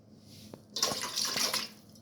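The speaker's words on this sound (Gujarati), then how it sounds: "કુકરની અંદર આપણે પાણી નાખી દઈશું ને ગરમ કરવા મૂકી દઈએ આપણે" Water poured into a pressure cooker, a short gushing splash lasting about a second after a quiet start, then fading out.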